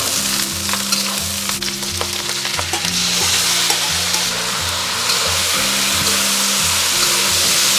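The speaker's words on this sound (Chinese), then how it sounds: "来一起翻炒翻炒" Lamb and soaked dried bamboo shoots stir-fried in a wok, a loud continuous sizzle with repeated scraping and clattering of the spatula, close and without talk; a low humming tone runs underneath.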